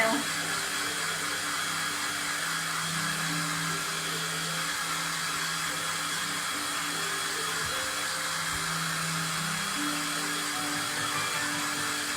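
A hair dryer blows steadily on a snow mound craft project, a continuous close whirring hum running the whole time with a person speaking faintly underneath.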